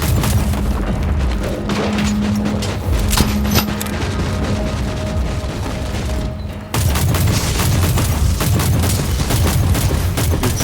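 Video game combat with a character firing continuously while explosions go off, making dense, loud rapid gunfire and booming blasts that run almost without pause, with one brief dip partway through.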